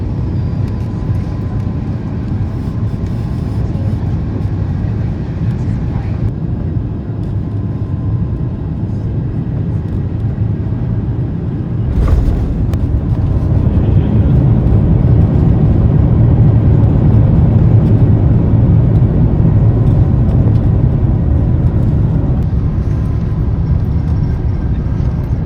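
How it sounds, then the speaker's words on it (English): Inside the cabin of a French Bee Airbus A350 airliner landing, a constant loud engine and airflow roar fills the space, a brief thump midway followed by a heavier, rumbling roar as the aircraft rolls out. "Now enjoy our landing."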